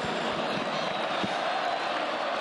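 Hall audience breaking into applause, a steady, even wash of many hands clapping at moderate distance with faint cheering mixed in.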